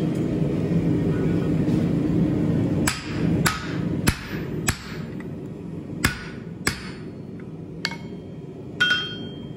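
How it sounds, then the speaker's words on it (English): Hammer blows on hot steel while forging a drifted axe eye, knocking down ridges: a steady low rumble, then about eight sharp, ringing strikes spaced irregularly, close and loud. "we're also gonna take the hammer and knock down some of these ridges."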